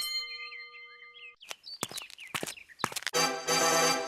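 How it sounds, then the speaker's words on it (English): A bell rings at a city gate in a storybook fairy-tale setting, sounding a few bright dings and clangs among chirping tones, ending in a sustained ringing chime. "they rang the bell"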